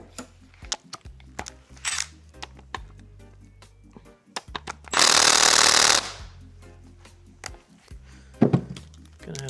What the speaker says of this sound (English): Gonna have to use the ratchet to break these loose.